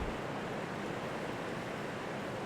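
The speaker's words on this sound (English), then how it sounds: "You guys, you probably hear background noise, but it's pouring rain outside." Heavy rain pours outside a window in Ecuador, a constant soft hiss of broadband noise, fairly faint and with no talking.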